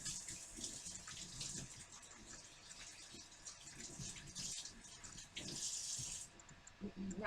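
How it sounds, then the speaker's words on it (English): Running tap water in a home kitchen, a steady hiss of flowing water with splashing as hands are washed under it, fairly quiet with small surges and drips. "Wash your hands."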